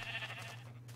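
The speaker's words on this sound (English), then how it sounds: "we gotta kill these sheep to get wool for a bed" A sheep bleats in the video game Minecraft, a single faint wavering bleat over a low steady hum, with no talk.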